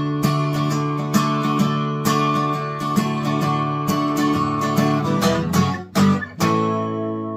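An electric guitar plays the intro riff of a song, ringing chords struck in a steady rhythm, loud and close, with a short break near the end before a final strum. No voices.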